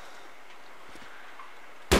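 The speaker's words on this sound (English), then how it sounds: "now you see the gunshot actually aggroed them" A single sharp, loud gunshot from the video game DayZ bursts in at the very end, following nearly two seconds of quiet ambient game sound.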